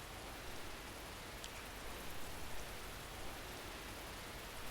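Steady, even rain pours without pause as a backdrop to a spooky story, a soft, constant hiss with no voices over it.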